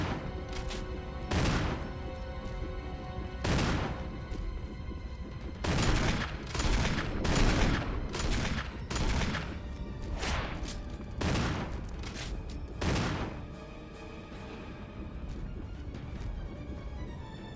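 Barry firing a gun in Resident Evil, a string of loud, sharp gunshots at irregular intervals, some in quick pairs, ringing over a low ambient room tone with no talking.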